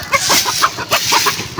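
Chickens cluck close by in a steady stream of short, repeated calls, with several birds overlapping.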